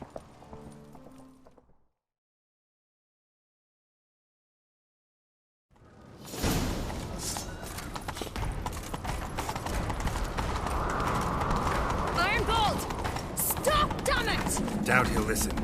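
Horse hooves galloping in The Witcher 3, a steady fast clatter that starts after a short bit of game sound and a silent gap, continuing loud to the end with whooshes and effects over it.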